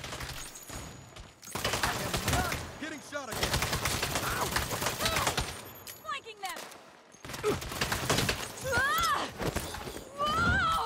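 Rapid bursts of submachine gun fire in Saints Row rattle in quick volleys, broken by short pauses, with excited voices talking over the shooting.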